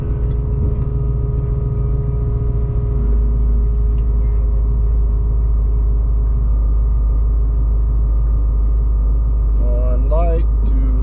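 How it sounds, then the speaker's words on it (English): A 1972 Ford Maverick doing a burnout at a drag strip, a heavy steady engine rumble holding for several seconds and then easing off, with a voice talking over it near the end. "Burnout."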